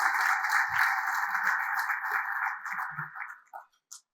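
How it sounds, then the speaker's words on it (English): Applause from a lunchtime mining club audience in Sydney, held as a steady, somewhat muffled wash of clapping for several seconds before thinning into a few scattered claps and fading out. "can you give our sponsors a big round of applause too?"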